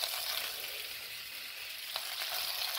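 Spinach sizzles and fries in a pan with pasta, a steady bright crackle lasting throughout with occasional stirring clicks and no talking.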